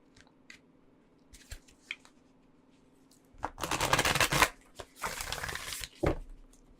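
Oracle cards being shuffled close by, with a few soft taps and handling sounds first, then two dense riffling bursts, a brief pause between them.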